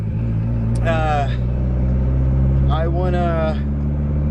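Eclipse 2G engine idling with no exhaust fitted, a loud, steady low rumble that runs the whole time, while someone talks briefly over it.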